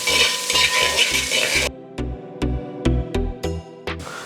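Chopped onions sizzle in a pan, frying steadily while being stirred in a regular rhythm of scraping strokes for clam fry, close and fairly loud with no talking.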